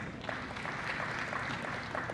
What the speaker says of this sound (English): Let's clap hands for these organizations.